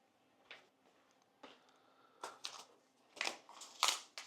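Several short crisp snips and crinkly cutting bursts, growing louder toward the end, like scissors slicing through a plastic homebrew purifier packet close by.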